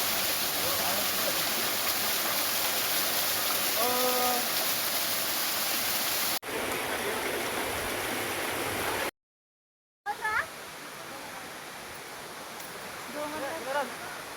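Small waterfall flowing over rocks near Choutuppal, Devalamma Nagaram, a steady close rushing wash that fills the clip, briefly cut out, with faint voices and short chirp-like calls in the background.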